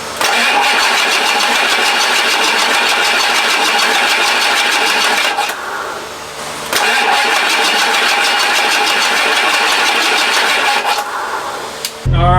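A rebuilt Ford 7.3 engine in an Econoline 4x4 van cranks and runs loudly and steadily, with a brief dip around the middle before it picks back up, then cuts off near the end.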